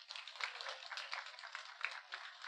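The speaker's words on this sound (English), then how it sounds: "Could I have a round of applause for Alina?" Thin, faint applause from a small audience at a city council meeting, honouring a student, with steady clapping that sounds muffled and distant.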